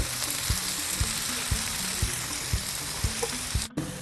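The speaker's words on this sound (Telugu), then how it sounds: "మీడియం ఫ్లేమ్లో పెట్టుకొని ఇలా కలుపుతూ ఫ్రై చేస్తూ ఉండాలి" Ivy gourd (dondakaya) fries over a medium flame in a pan, with a steady sizzle and a regular rhythm of spatula strokes roughly every half second, and a brief pause near the end. No one speaks.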